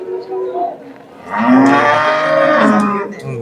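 A cow moos loudly and close by at a livestock market, one long drawn-out low call following a fainter earlier lowing.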